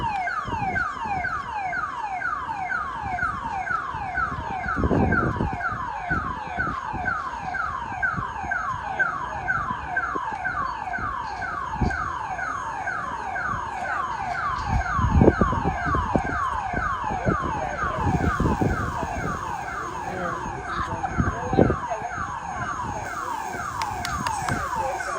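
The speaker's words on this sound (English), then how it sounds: "Somebody tripped the alarm or the sound tripped the alarm." A church alarm blares continuously during a steelband street parade in Port of Spain, Trinidad, its rapid repeating warble steady and loud across the whole stretch, with crowd and street noise thumping underneath.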